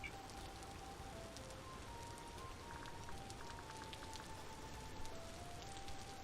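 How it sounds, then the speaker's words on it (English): Steady rain in the video game Vintage Story, a constant soft hiss of falling drops with faint tonal game sounds drifting over it, no talking. "let's stop the rain"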